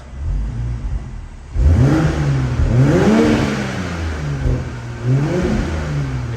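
A BMW Z4 M40i's engine, revved in a showroom in Sport Plus mode with the exhaust valve open, rises and falls through several close, loud blips after a quieter idle.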